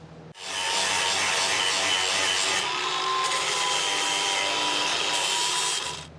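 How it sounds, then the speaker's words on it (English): A lawn mower blade edge being sharpened, a loud, continuous abrasive grinding that starts abruptly and runs steadily for several seconds with no talking. "You got to keep on sharpening that whole edge"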